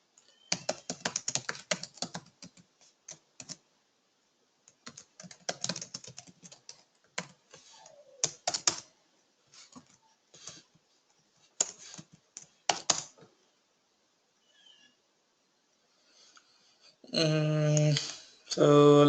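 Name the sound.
typing on a computer keyboard while writing Java code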